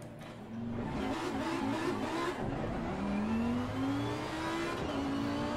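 Race car engine in the Assetto Corsa Competizione racing game, revving steadily with a rising pitch as it accelerates, fairly quiet and alone without talk.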